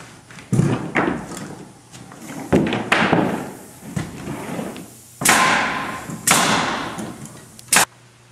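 Sharp thuds of a nail gun fastening plywood sheathing on a storage building, several irregular impacts with ringing decay, close and loud, spaced about a second apart, with no talking.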